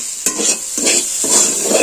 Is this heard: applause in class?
no